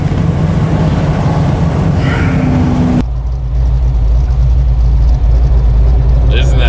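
A car engine, from a 1979 AMC AMX or 1970 Pontiac LeMans on a long highway drive, runs with a loud steady low drone that shifts abruptly partway through, under talk in the cabin.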